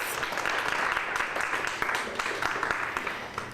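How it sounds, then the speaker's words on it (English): Audience applause fills a room at the City of Pittsburgh's first Women in Leadership Luncheon, a steady, dense patter of clapping that holds at a fairly even level for a few seconds. "So give yourselves a round of applause."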